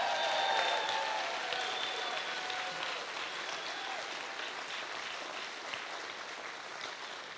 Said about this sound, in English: let's give a round of applause for my mother.